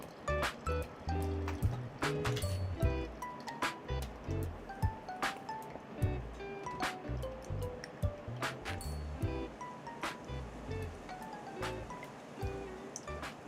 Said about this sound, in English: We're gonna do another pour until 90 grams. We start from the center and go to the edges,